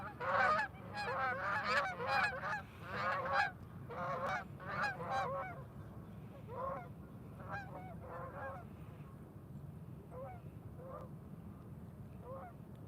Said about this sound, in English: Can you hear the geese in the background?